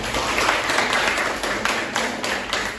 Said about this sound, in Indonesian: Kasih tepuk tangan buat kelompok 1.